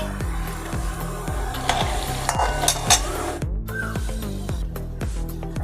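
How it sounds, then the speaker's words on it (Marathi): Roasted chana dal being roasted with oil in a pan for kurmura chivda gives a steady close sizzle with stirring scrapes, under continuous background music. "त्यामध्ये हे माझ्याकडे भाजलेले डाळे आहेत चण्याचे, ते मी सगळे भाजून घेते."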